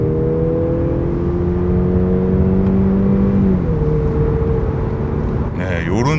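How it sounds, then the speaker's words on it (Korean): A Mercedes-Benz C300 AMG Line with a four-cylinder gasoline engine drives along, giving a steady, subdued engine hum with a smooth pitch shift midway and a brief rise in revs near the end. "엔진 사운드 자체가 굉장히 좀 소음이 적은 차예요"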